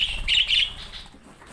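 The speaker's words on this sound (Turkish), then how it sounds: "Şu an kuşlarımız cıvıl cıvıl" Two-month-old pet birds chirp with bright, rapid repeated tweets at their feeder, close and steady, over a soft background rustle.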